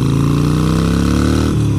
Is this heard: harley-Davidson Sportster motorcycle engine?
yes